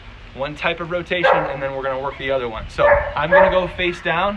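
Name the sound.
dog barking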